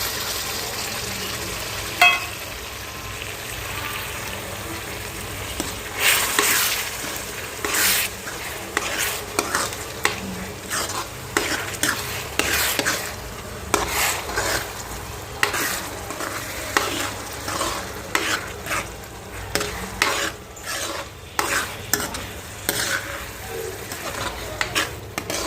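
Onions and tomatoes for pav bhaji frying in a pan, with a low sizzle under frequent rhythmic scraping and clanking of a spatula against the metal pan, loud and close over a long stretch.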